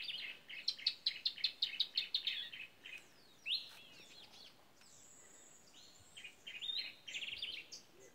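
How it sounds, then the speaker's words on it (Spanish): Birds chirp in quick repeated bursts at first, then scattered calls and trills continue at a moderate distance over a quiet outdoor mountain background near Cape Town, South Africa. "Escuchan los pájaros."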